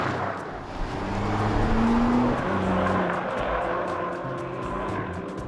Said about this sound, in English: here's what a Nissan GT-R sounds like